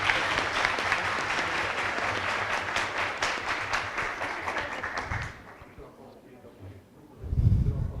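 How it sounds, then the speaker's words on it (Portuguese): An audience applauds honored administrators at an event in Teresópolis, a dense burst of clapping lasting about five seconds before fading quickly, followed by a brief pause and then a close voice speaking. "Uma salva de palmas aos administradores,"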